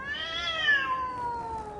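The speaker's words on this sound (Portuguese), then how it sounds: "Este último era um animal lindo, grande, enorme, todo preto e muito inteligente." A large all-black cat gives a single drawn-out meow that slides downward in pitch, heard up close with no other sounds around it.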